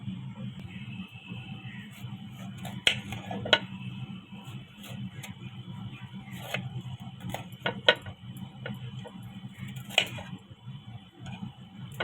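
A knife slices through a red watermelon with a few sharp, crisp clicks and crunches spread across the clip, over a steady low hum in a quiet room.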